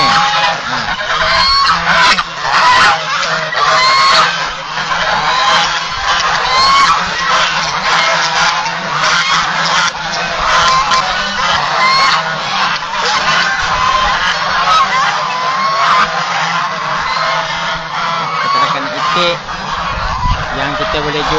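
Grey and white geese on a goose farm honk continuously and loudly, a dense, overlapping flock chorus with no letup throughout.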